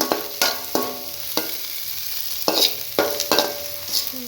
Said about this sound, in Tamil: பெருசு பெருசாக கட்டை பிடிக்காமல் சின்ன சின்னதாக இருக்கிற மாதிரி நல்லா கிண்டி எடுத்துக்கோங்க